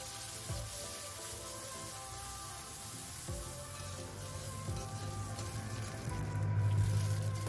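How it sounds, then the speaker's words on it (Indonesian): Small anchovies (ikan teri) frying in cooking oil give a soft, continuous sizzle with occasional light clicks and stirring, close by and steady, with no talk. "Kita akan goreng terlebih dahulu ikan terinya sampai setengah garing."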